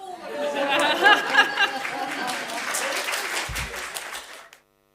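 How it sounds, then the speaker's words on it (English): Applause from an audience at a retail energy markets conference session, a brisk round of clapping mixed with chatter and a little laughter, close and full for about four seconds before cutting off abruptly. "This is usually the customary round of applause"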